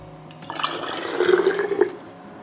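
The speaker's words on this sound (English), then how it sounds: "We're just gonna pour the broth into the jar." Turkey broth pours through a funnel into a canning jar, a short burst of trickling, gurgling liquid lasting about a second and a half, close and clear with no talk.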